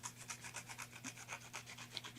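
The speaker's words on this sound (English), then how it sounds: "just take a piece of sandpaper like this, or it can be a sanding block or whatever" Light, steady rasping strokes of sandpaper on the back edge of a bagel slicer blade, removing a burr, repeated rhythmically about four times a second, close and fairly quiet over a low hum.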